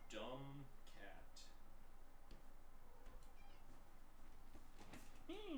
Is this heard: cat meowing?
yes